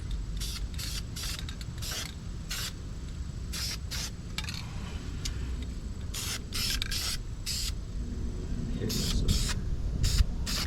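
Brake cleaner sprays from an aerosol can onto a Ford Mustang brake part in a series of hissing bursts, some short and some sustained, with brief pauses between them, close and steady.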